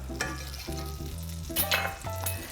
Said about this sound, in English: so now we can get our salmon in the pan